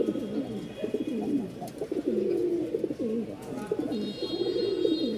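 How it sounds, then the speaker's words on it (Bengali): A male pigeon coos steadily in a repeated, rolling rhythm, close and clear, with faint background noise throughout. "নরের ডাক দেখবেন, আর একটু ডাক দেখায়, এই দেখেন"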